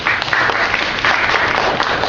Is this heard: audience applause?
yes